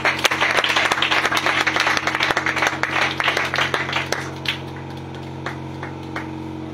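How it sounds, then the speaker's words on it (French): Loud church crowd applauding and cheering as a prophet approaches, dense clapping for about four seconds then thinning to scattered claps over a steady low hum. "Alors qu'il s'approche, on acclame très fort."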